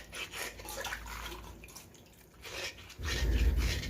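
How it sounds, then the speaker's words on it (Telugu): Vegetables rubbed and washed by hand in a basin of soaking water, giving close splashing and sloshing with scattered drips, building to a louder churning burst near the end. "5 minutes సోక్ చేసిన వాటర్లోనే కూరగాయలను ఇలా బాగా రుద్ది కడుగుతాను."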